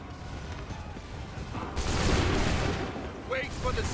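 Musket volley in Assassin's Creed 3 during a barricade assault, with low rumbling battle noise giving way to a loud, broad burst of simultaneous gunfire midway, followed by scattered sharper cracks.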